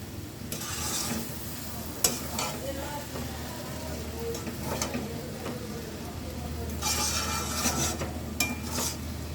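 Noodles and vegetables are stirred in a frying pan, giving a steady low sizzle under repeated scraping and clinks of a utensil against the pan, busier near the end.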